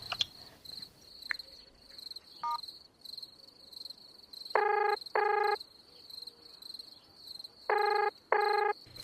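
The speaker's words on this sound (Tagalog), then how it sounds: "Try ko nga siyang tawagan ulit." Outgoing phone call ringing back in two pairs of long electronic ring bursts, each pair heard twice at a steady interval, over a quiet nighttime background with a faint cricket-like chirp throughout.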